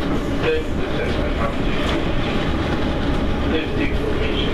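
A London Underground District line train stands at a station platform, giving a steady, loud rumble with clattering wheel and car noise throughout and a faint voice in the background.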